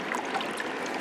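Water from a small gold wash plant pours steadily into a bucket, a constant close splashing trickle with no pauses and no voices.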